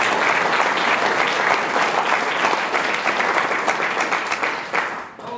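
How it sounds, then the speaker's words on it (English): Audience applause at a wrestling comedy show, a dense, steady wash of many hands clapping that fills the room for about five seconds before fading at the end. "Let's have a round of applause"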